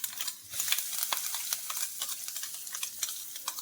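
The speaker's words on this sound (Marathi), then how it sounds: "आता आपण हे वाटण टाकून घेऊया" Ground spice paste for vada pav lands in hot oil with a crisp, close sizzle and crackle, scattered pops and spoon stirring over a steady frying hiss.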